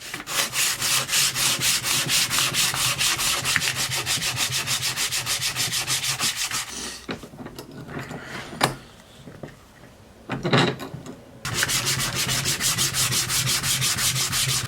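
A wooden shotgun stock being sanded by hand with sandpaper, with steady, close rhythmic rubbing strokes for about seven seconds. After a pause marked by a couple of knocks, the scraping resumes just as loud and regular.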